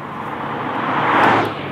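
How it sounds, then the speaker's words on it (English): Air intake noise piped into the cabin behind the occupants' heads of a 2016 Acura NSX, a steady broadband whoosh swelling gently and peaking briefly before easing, heard from inside the car with no talking. "inside the cabin here, you're really hearing the air intake noise, which Acura actually sort of pipes into the cabin right behind your head"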